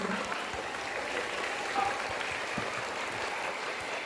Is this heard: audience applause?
yes